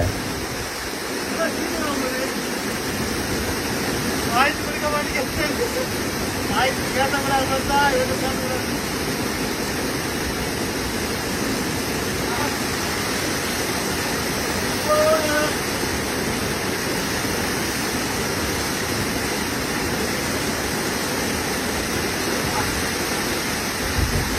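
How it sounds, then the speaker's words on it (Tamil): Small rainwater waterfall near Old Courtallam pouring steadily, a dense constant rush of falling water close by throughout, with a few faint brief clicks and knocks over it. "நல்லாவே தண்ணி விழுதுங்க"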